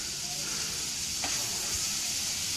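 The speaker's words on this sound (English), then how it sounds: "So Ed's just throwing some butter in the frying pan." Steady soft hiss of butter sizzling in a hot pan, continuous and close, with faint background noise.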